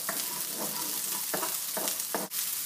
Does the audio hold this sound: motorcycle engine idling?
no